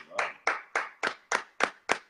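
Seven sharp, close hand claps in an even rhythm about a third of a second apart, each crisp and quickly fading.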